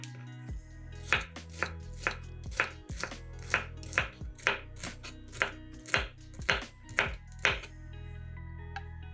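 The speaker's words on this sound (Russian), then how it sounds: "а затем режем их мелкими кубиками." A knife taps rapidly and rhythmically on a cutting board dicing bell pepper, about a dozen crisp chops in quick succession, close and clear with no talking.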